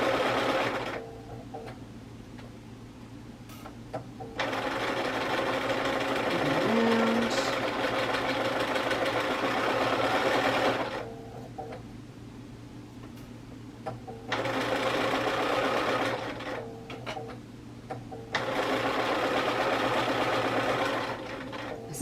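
A sewing machine stitches around a curve on a zipper pocket project, running in long continuous bursts with a steady buzzing drone and short pauses between runs. The machine is close and clearly heard, with no talking over it.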